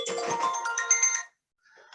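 A mobile phone ringtone plays a bright, repeating electronic melody loudly for just over a second, breaks off, then sounds again more faintly and briefly.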